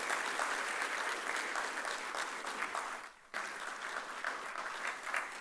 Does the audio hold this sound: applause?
yes